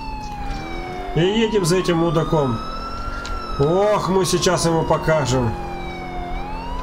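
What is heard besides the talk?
police car siren switched on in video game Grand Theft Auto IV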